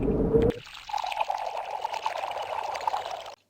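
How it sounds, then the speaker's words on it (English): Beer glugging out of bottle after bottle onto a dusty road in the Freddy Pharkas Frontier Pharmacist game, a steady, close liquid pour running for a few seconds after a brief opening knock. "you cleverly pour bottle after bottle of Sam Andreas's St. Louis brew into the dusty road"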